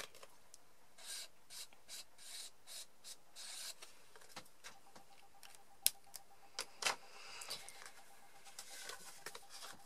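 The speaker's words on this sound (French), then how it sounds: "je vais juste la coloriser ici en gris souris avec mon marqueur" A marker colours a paper card in mouse grey with soft, quiet rubbing strokes in an irregular series, close and faint, with a few small taps in between.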